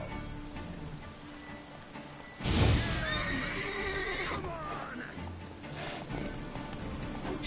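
A horse neighs in The Witcher 3 video game, a loud wavering whinny amid game sounds, with hoofbeat clip-clop and a faint rain-like hiss beneath.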